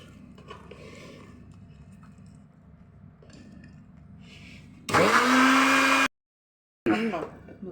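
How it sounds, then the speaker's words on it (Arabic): An electric mixer beats milk with an egg for cupcake batter, a loud whirring burst of about a second, then a short pause and another spell of whirring, after quiet kitchen sounds with a little talk. "هنضرب اللبن مع البيضه"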